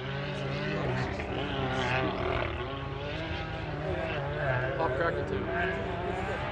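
A Can-Am Maverick R side-by-side off the throttle with cylinder deactivation, running on two cylinders during a group ride on the Little Sahara sand dunes. A steady, droning engine note with a strong tonal hum holds throughout.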